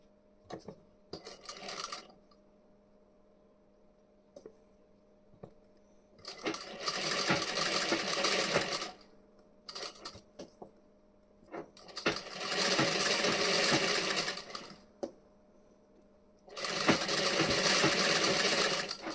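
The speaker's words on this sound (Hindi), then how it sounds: "अब यहाँ से हमें ऐसे फोल्ड करके उसके बाद इस पर स्टिचिंग कर देनी है ऐसे।" A sewing machine stitches the front part of a blouse in several loud, fast-running bursts of a few seconds each, with quiet pauses between them and no talking.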